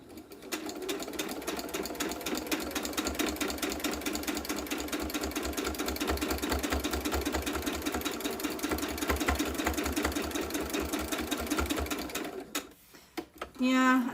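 Domestic sewing machine stitching fabric in a rapid even chatter for about twelve seconds, close and fairly loud, then stopping abruptly, with a short bit of talk after the machine stops.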